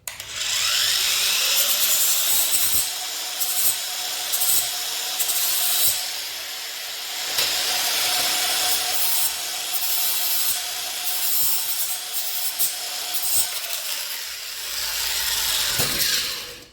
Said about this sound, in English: I'm gonna just grind it down actually